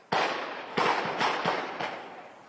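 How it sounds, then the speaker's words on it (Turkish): Munitions at an ammunition depot in Afrin go off in a string of sharp, loud blasts, about five bursts in quick succession, each followed by a rumbling tail, with no talk. "Çok büyük bir patlama daha oldu."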